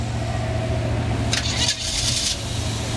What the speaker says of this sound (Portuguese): Camaro insiste em pegar